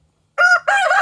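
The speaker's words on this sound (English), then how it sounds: "fed them to the chickens" A rooster crows loudly and close by, one bright two-part call after a brief silence, among backyard chickens.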